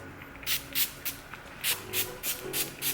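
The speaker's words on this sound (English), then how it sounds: "I'm gonna finish off the look with some the same spray that we used before" Repeated short hissing spritzes of makeup setting spray, about nine pumps in a steady rhythm, close and fairly loud.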